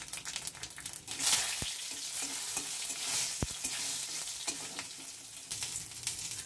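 Panch phoron spices, with a halved dried red chili and a torn bay leaf, crackle and sizzle in hot oil for a vegetarian moong dal, a steady close hiss with a sharp burst early on and scattered pops throughout.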